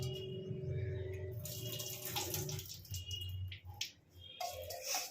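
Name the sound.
adding washed rice and lentils into a rice cooker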